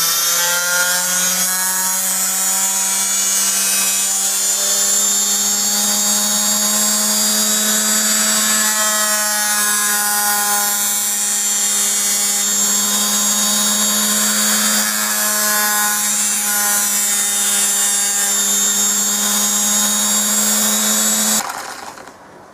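A homemade grinder driven by a washing machine motor runs with a loud, steady, close motor whine and hum, holding unbroken for about twenty seconds before cutting off abruptly at the end.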